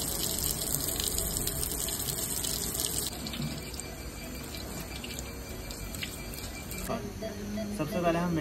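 A tap runs for hand washing before a nasogastric tube procedure, a steady splashing stream with drips and shifts as hands move under it, fairly quiet, with a voice speaking over it.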